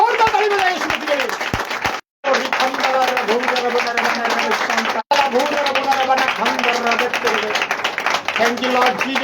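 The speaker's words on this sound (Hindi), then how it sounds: "आइए एक जोरदार ताली यीशु के लिए बजाओ" A church congregation claps loudly for Jesus, a dense, continuous burst of applause that fills the room with a brief pause partway through, and voices are audible over it.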